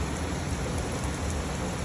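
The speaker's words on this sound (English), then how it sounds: "it rains" Steady rain falls outside a garage where a 2001 Honda Civic with a swapped K24 engine and manual conversion is being worked on, an even broadband hiss with no talk.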